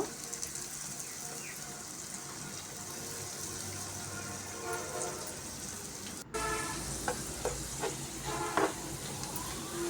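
Potato and carrot french fries crackle in hot oil, a steady quiet sizzling hiss with small pops that continues throughout, growing slightly busier toward the end.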